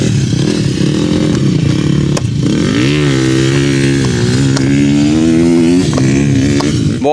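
A 150cc dirt bike engine running loud and close, its note rising and falling as the rider works the throttle, with steady revving through the whole stretch and no talk over it.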